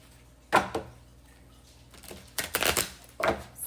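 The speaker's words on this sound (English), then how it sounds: "I'm going to start shuffling the cards" Tarot cards being shuffled by hand, a few short riffling bursts with quiet pauses between, close and fairly soft.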